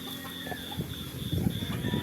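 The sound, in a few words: chickens clucking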